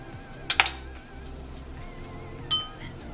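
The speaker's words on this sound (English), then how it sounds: "So I put 1 full spoon of coconut oil into it." A spoon clinks against a bowl while a full spoonful of coconut oil is added, two quick bright taps close together near the start and another single clink a couple of seconds later, over quiet room background.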